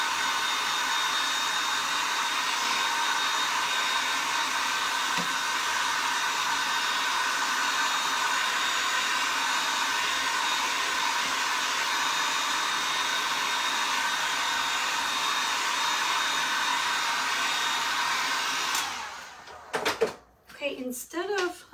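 A hair dryer runs steadily at close range, drying a craft transfer on a DIY sunflower kit, a continuous loud whoosh that cuts off near the end, followed by a few brief handling clunks.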